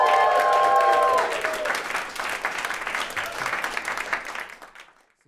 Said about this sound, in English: How about a huge round of applause for our first half storytellers?